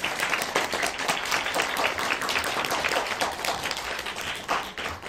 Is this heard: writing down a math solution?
no